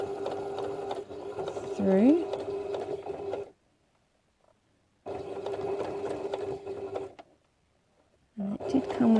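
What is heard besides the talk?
sewing machine stitching fabric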